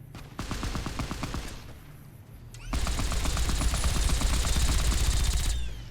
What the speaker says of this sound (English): Billy's even firing a smaller version of a Gatling laser